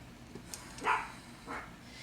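A dog barks a couple of short times at moderate distance indoors, two quick yips spaced about half a second apart over a quiet room background.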